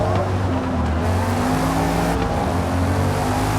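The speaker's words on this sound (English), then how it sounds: "every time you decelerate it, you can very subtly hear the turbo spooling down." Car engine in Forza Motorsport, a racing video game, droning steadily with layered tones as it decelerates, a subtle turbo spool-down woven through the continuous mechanical sound.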